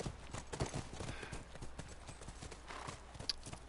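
Horse hooves clip-clop in The Last of Us video game, a quiet, steady rhythm of hoofbeats on hard ground with faint ambient noise behind.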